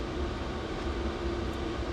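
A diesel heater running nearby, giving off a steady low roar with a constant hum and broadband rush, unbroken and fairly loud, with no talking.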